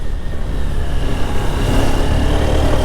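A Honda NX200 motorcycle engine revs loudly and close by, a sustained rising drone that holds strong for a few seconds with no voices over it.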